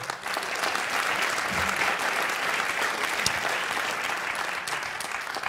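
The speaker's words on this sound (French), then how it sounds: "Je pense qu'on peut applaudir encore une dernière fois les 3 intervenants" Sustained audience applause at a conference on psychotrauma care centres, a dense steady patter of many hands clapping for several seconds at even loudness, with no voices over it.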